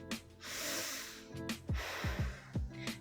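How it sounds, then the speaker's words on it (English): Heavy breathing during a plyo yoga workout: sharp nasal snorts and gasping exhales with softer breathy stretches between, close and moderately quiet. "Taking a few more breaths here."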